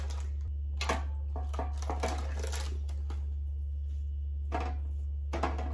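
Scissors snipping apart a string of linked sausages, sharp irregular cuts and crinkly handling in quick bursts with pauses, over a low steady hum.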